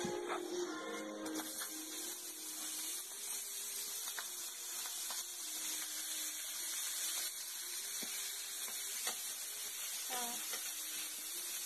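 Chicken and chorizo sizzle steadily in hot olive oil in a pan, a constant broadband hiss with small pops and clinks of a utensil, close and moderately quiet.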